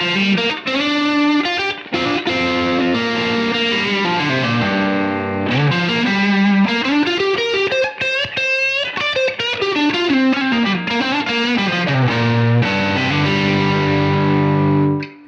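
An electric guitar on its neck pickup plays a continuous melodic line with a warm, slightly distorted tone and chorus-like shimmer, loud and close, with no voices.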